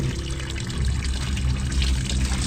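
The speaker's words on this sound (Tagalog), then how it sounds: "Doon po tinatapon ng tubig." Laundry water drains out through a hole in a continuous close gush, running steadily and fairly loudly with no pause.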